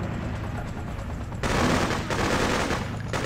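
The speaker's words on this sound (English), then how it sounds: "They're taking fire!" Heavy rattling gunfire in the video game Freedom Fighters, with a steady din of shots that suddenly swells into a denser, louder volley midway and stays intense to the end.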